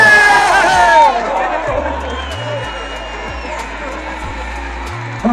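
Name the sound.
spectators cheering and clapping at a village horse race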